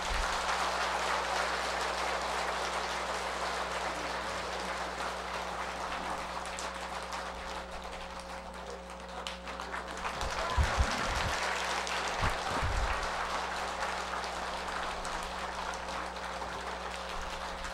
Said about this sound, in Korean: 여러분들이 주지스님을 인해 큰 박수로 한번 치세요